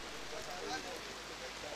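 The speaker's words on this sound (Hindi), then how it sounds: "अब बारिश बहुत तेज हो गई है, बहुत तेज।" Heavy rain pours during a local cricket championship match, a steady dense hiss of rain on surfaces throughout, with faint commentary underneath.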